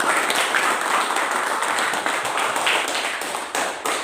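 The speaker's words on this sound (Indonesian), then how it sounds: "kita berikan tepuk tangan." A class of students applauds together in an Indonesian economics lesson, giving a dense, steady wash of clapping for about four seconds with no voices over it.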